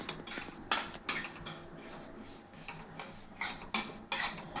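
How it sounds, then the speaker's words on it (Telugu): Black sesame seeds roasting in a pan over a low flame, with irregular scraping and clinking of a utensil against the pan and soft rustling between strokes, close by with no talk. "ఇది సిమ్లో పెట్టుకొని వేపుకోండి"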